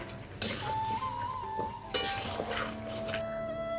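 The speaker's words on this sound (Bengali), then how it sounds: "এখন হচ্ছে গিয়ে আলুগুলো দিয়ে দেবো।" New potatoes tipped into a pan of blackbuck deer meat curry, with metal clinks and scraping stirs against the pan at close range under a soft background hum.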